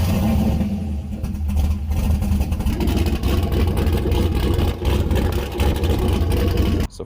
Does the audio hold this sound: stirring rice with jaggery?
no